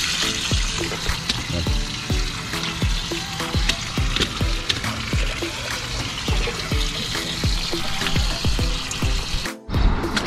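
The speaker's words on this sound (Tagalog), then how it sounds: "i-drain ko lang muna yung tubig." Water drains out of a centralized water heater tank after its heating element is removed, a loud, steady splashing gush with gurgling pulses, close by and continuous with no talking.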